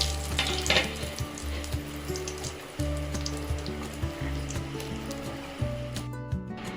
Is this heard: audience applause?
no